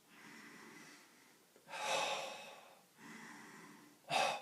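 A singer practicing diaphragmatic breathing takes deep, audible breaths: a steady breathy passage, then a stronger rushing breath, another long breath, and a short sharp intake at the end, close and fairly soft.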